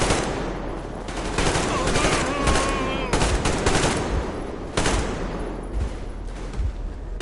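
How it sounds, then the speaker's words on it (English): Rapid bursts of automatic gunfire and rifle shots fill a Metro Exodus battle, loud, dense and near, with overlapping volleys and brief lulls; voices call out faintly beneath the shooting. "Covering fire for the Colonel"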